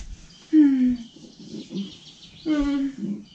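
Small birds chirp and tweet steadily in the background of a live French children's fairy show, light and high over a voice that speaks across most of the clip.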